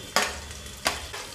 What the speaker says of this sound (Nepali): चिकन गयो चिकन हल्का फ्राई